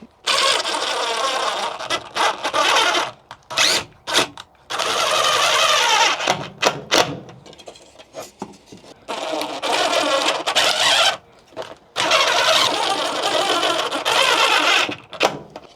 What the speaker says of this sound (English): I'm just going to put some 4mm screws through just at the bottom end to hold it all together.